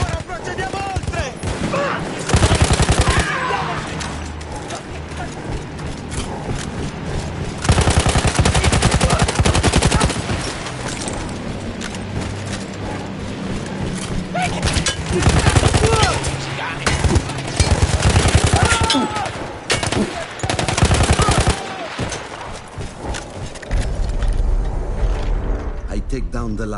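A manned heavy machine gun in the Battlefield war game rattles off sustained, close, loud bursts with short breaks and mechanical clanks, while battlefield din and faint voices run underneath.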